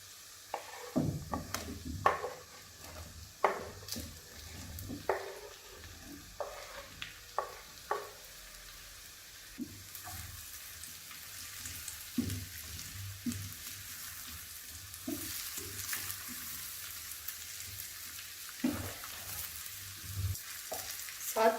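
Chopped mushrooms added to onions already frying over a medium flame in a pan, with crushed garlic to follow. A soft, steady sizzle runs underneath a series of sharp clatters and scrapes from stirring, with no one talking.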